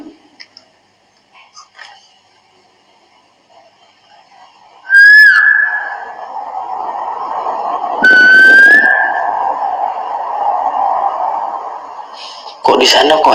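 A person's whistled notes ring out clearly, each answered by another whistle mimicking it, rising sharp tones separated by pauses, over a steady hum and some quiet distant chatter.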